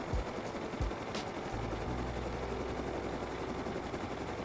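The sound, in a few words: minicopter flyby in video game Rust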